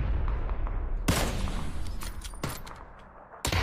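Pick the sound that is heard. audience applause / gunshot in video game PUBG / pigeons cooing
gunshot in video game PUBG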